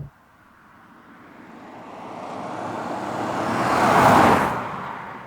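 Classic cars from a town car show, a Jaguar E-Type followed by two Bentleys and a TVR Chimera, pass by: a broad roadway rush swells steadily to a loud peak near the end, then eases slightly, with wind noise and no speech.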